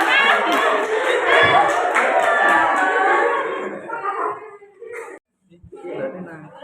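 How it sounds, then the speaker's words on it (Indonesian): A school classroom of students clapping in applause, a dense, loud patter that fades after a few seconds, with a voice heard afterward. "kita kasih aplaus"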